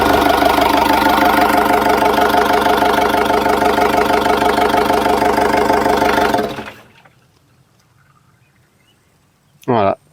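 A freshly installed new engine idles steadily in a Sprinter 4x4 van, close and loud with an even mechanical rhythm for about six seconds before cutting off into near silence, followed by a brief thump at the end.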